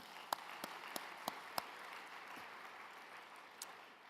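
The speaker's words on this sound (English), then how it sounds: "I think they deserve another round of applause." Closing-ceremony audience applause at a regulators' symposium, a soft continuous wash of many hands clapping at a distance, with a few sharper nearby claps standing out early on.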